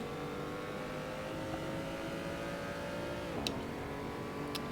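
Race car engine in the Assetto Corsa racing game, a steady sustained drone at high revs, with a brief pitch drop as it shifts and a couple of faint clicks; no speech.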